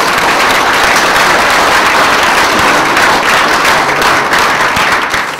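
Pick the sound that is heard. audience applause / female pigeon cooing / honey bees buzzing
audience applause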